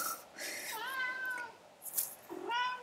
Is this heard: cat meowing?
yes